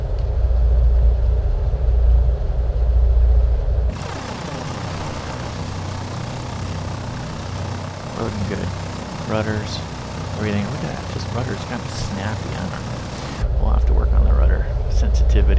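A Carenado PA-44 twin-engine plane taxiing in Microsoft Flight Simulator 2020, with a steady loud propeller engine drone throughout. The engine note shifts partway through, and someone talks over the middle section.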